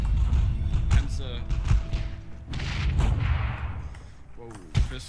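Tank cannon fire in the video game Heroes & Generals: heavy booming shots and thuds punctuate the mix, with a player's voice talking over the gameplay.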